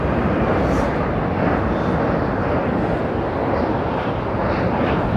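An airliner touches down on runway 27L at Heathrow, a steady broad roar of engines and rushing air, moderately loud and unbroken, with wind buffeting the microphone.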